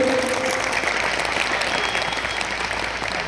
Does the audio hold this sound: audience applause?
yes